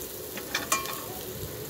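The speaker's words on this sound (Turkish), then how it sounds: "Şimdi güzelce birazcık kavurayım." Onion, potato and garlic sautéing and being stirred in a pan, a steady close sizzle with a couple of brief scraping clicks, no talking.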